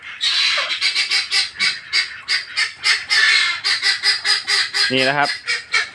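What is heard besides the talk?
ducks honking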